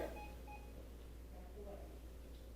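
Two short electronic beeps sound faintly near the start over a steady low hum, then only the hum remains.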